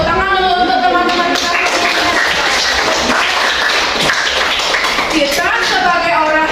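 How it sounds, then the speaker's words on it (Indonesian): Children in a classroom clap together in a steady, fairly loud burst that runs through the whole stretch, with young voices chattering and calling over the clapping. "Tepuk tangan dulu untuk teman-teman"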